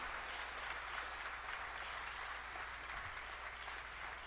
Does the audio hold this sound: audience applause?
yes